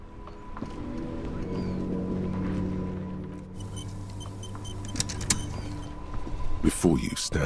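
A motor carriage in the Disco Elysium video game makes a steady, low mechanical hum with a whirring, power-window-like tone, then rattles and clatters toward the end, fairly quiet and alone.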